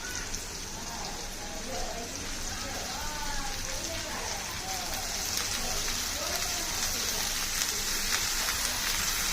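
Washed amaranth greens added to a pan of cooking tomatoes, a steady soft sizzle and crackle running under a faint voice speaking.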